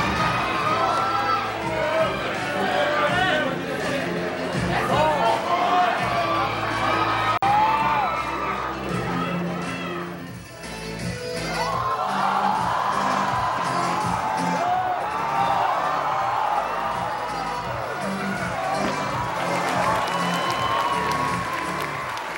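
A crowd at a school performance cheers, whoops and shouts with scattered applause, a loud sustained roar of many voices that dips briefly midway and then swells again.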